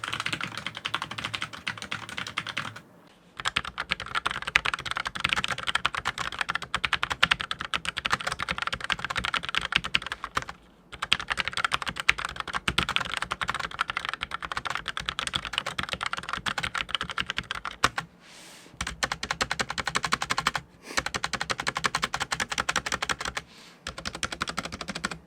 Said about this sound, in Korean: 타건음을 한번 들어보시면 납득이 될 거예요